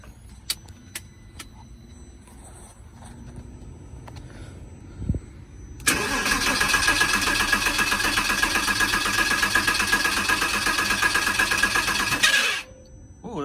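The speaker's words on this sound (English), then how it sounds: "so it's cranking, but no start yet" Porsche Boxster engine cranking without firing: after a few quiet clicks and a thump, the starter whirs steadily and loudly for about seven seconds, then cuts off abruptly.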